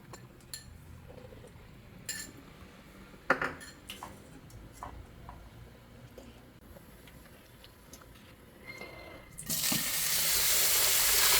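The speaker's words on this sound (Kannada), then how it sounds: "ಇದನ್ನು ಸ್ವಲ್ಪ ಹೊತ್ತು ಕುದಿಯಕ್ಕೆ ಬಿಡ್ತೀನಿ" A pot of sweet corn, spinach and paneer pulao simmers on the stove, giving a low bubbling and watery sizzle with a few metallic clinks. A louder hissing rush rises near the end.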